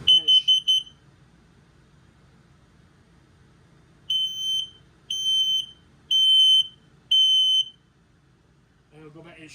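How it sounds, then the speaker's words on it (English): An LP and carbon monoxide detector in a 2023 Forest River No Boundaries 20.4 RV is tested: a burst of rapid shrill beeps, a pause, then four evenly spaced loud piercing tones, close to the microphone. "This is your LP detector and carbon monoxide detector. You press this button here, we'll test it."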